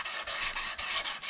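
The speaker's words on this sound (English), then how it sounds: "I've got a 150 pad on the block, and I'm just going to start sanding the" A 150-grit pad on a sanding block rasps back and forth across a wooden cup by hand, in short, close, even strokes with brief pauses between them.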